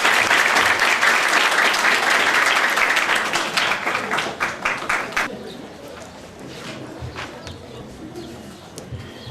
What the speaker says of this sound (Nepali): त्यसपछि ताली बजाइदिनु हुने मन गर्दछ